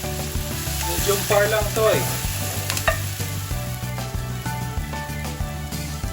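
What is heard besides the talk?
onion and garlic frying in a pan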